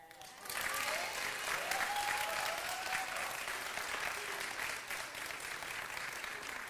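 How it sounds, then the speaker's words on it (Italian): A congregation of women applauds in church, sustained dense clapping rising quickly and holding steady, with faint voices underneath. "io chiedo un applauso delle donne."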